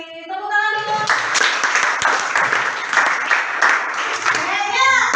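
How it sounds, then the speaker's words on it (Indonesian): Classroom applause for a student group, a steady burst of many hands clapping for several seconds, mixed with children's voices that rise and fall over the clapping. "Tepuk tangan dulu."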